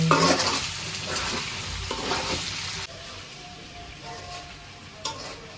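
Quail meat sautéing in a pan, a loud sizzle with stirring scrapes that drops to a quieter fry partway through, with a brief clink of utensils near the end.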